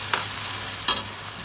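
Chilli paste and tomato paste fry in a pan for a vegetarian paneer curry, giving a low steady sizzle broken by two brief stirring scrapes, with no voices.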